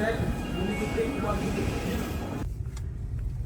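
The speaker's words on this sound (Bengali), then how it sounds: "আমরা মেট্রো স্টেশনে চলে আসছি" Loud, steady rumble of an underground metro station in China with continuous mechanical noise and hum, which cuts away abruptly near the end leaving a low drone.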